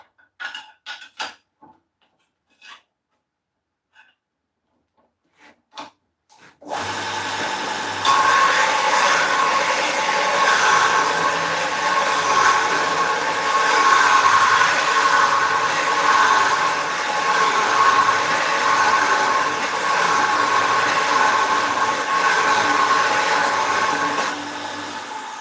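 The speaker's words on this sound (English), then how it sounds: "I'm going to sharpen this bowl gouge, okay?" A bowl gouge is sharpened on a ProEdge sharpener: after several sparse knocks and handling sounds, a loud, steady whirring grind starts and carries on without a break to the end, with no voices.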